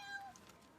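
A cat at a hill-station lodging gives one short, faint, close meow, with no other sounds.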